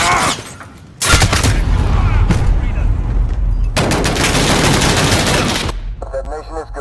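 Loud, dense gunfire from a Call of Duty Modern Warfare online match, sustained bursts of automatic fire with heavy low rumble filling most of the stretch, with a brief lull near the start and end.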